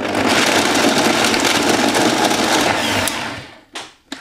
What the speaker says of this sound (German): So, und jetzt wird das Ganze gemixt